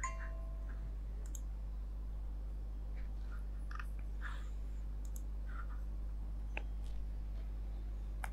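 A computer mouse clicks sparsely, faint scattered clicks at irregular intervals over a steady low hum in a quiet room.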